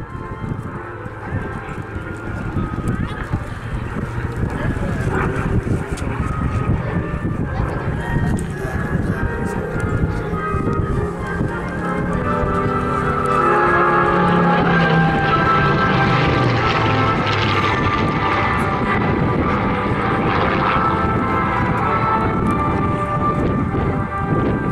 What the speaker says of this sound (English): the incredible roar and growl of a Griffen engine